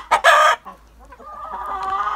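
Chickens cluck loudly nearby in a couple of sharp bursts, including laying hens in a backyard coop, followed by softer drawn-out clucking and murmuring from the flock.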